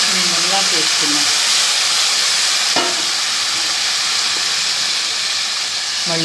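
Boiled drumstick leaves dropped into hot tempering oil, giving a loud, steady sizzling hiss that fills the whole span, with a brief voice near the start.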